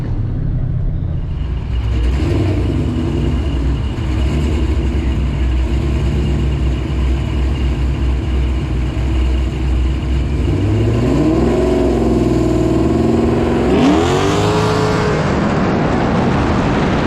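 A supercharged 5.7 Hemi Dodge R/T launches hard, its loud close engine roar building, dropping as it shifts through gears and rising again with a whining supercharger.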